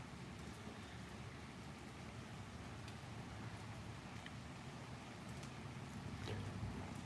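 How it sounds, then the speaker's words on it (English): Rain falling steadily, a faint, even patter and hiss with occasional soft drips, heard alone at low level. "It's raining right now."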